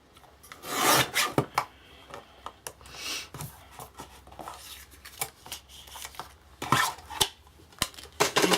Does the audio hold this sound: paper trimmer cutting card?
yes